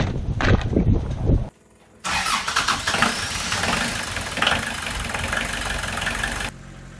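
Rebuilt inboard engine on a sailboat starting up and settling into a steady, loud running drone after a brief pause, with a rough mechanical rattle under the continuous hum before it cuts off near the end.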